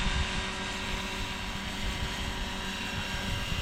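A radio-controlled Hughes MD500/AH-6 helicopter hovers in wind, giving a steady, close rotor and motor drone mixed with rushing wind noise across the microphone throughout.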